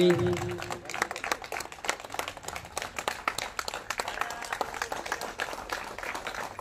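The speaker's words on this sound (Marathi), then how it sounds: "टाळ्या वाजा जोऱ्यानं" Audience clapping at a school alumni reunion, uneven and spread-out hand claps in an irregular patter, opening with a brief low rumble and voices, moderately loud throughout.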